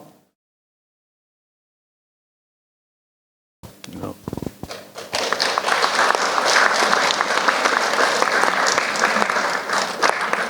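A moment of silence breaks into applause from wedding guests, which builds quickly into steady, dense clapping from a crowd that carries on to the end.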